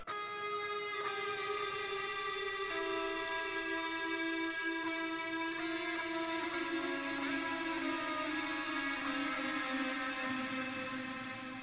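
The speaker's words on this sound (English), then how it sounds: "just we're using a lead amp before Valhalla plugin, so using sweet lead, and that sounds like this." An electric guitar plays a lead line through a lead amp into a Valhalla shimmer reverb plugin, producing sustained, gliding notes layered with bright, washing octave harmonics that ring on continuously, heard alone without talking.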